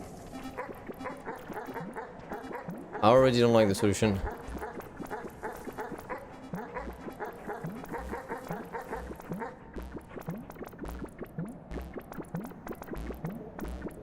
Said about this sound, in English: Leave me alone, you stupid dog!